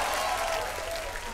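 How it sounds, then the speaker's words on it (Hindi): A studio audience on a comedy show claps together in a brief, continuous wash of applause, fairly soft and even, with no distinct individual claps standing out. "जोरदार तालियां हो जाए"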